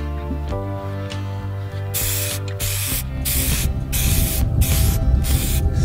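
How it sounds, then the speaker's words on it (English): Spray cans coat a pipe fence outdoors: a can rattles with quick repeated clicks, then loud hissing spray bursts follow in a choppy series of close, evenly spaced blasts. "I'm gonna spray paint with the wind for now."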